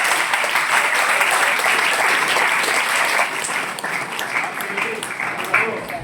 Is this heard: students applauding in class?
yes